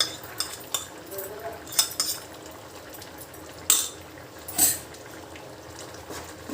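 A spoon stirs masala mix into a pot of curry. Occasional metallic clinks and scrapes of the spoon against the pot rise over a soft, steady background, and a few louder clanks stand out.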